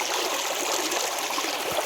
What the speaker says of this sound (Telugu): వాటర్ వచ్చేసింది ఒక్కసారి మనం వాటర్లో కడుగుదాం